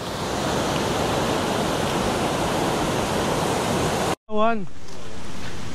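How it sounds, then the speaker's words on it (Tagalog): Palsabangon Falls in Pagbilao, Quezon roars as a loud, steady broadband rush of falling water, cut off abruptly near the end before briefly resuming. "nagmumuni-muni habang pinapakinggan ang bagsak ng falls"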